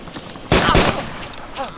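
Gunfire in an Arma tactical video game mission: a loud burst of shots cracks out, followed by fainter scattered reports, with a voice speaking briefly over them.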